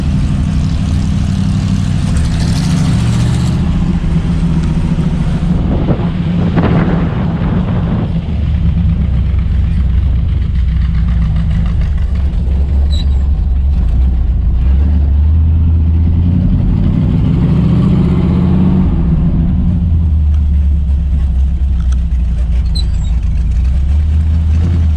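A 1936 Hudson Terraplane with a hot-rodded Ford flathead engine drives along, its deep, steady exhaust rumble loud and continuous with rising and falling revs and no talk.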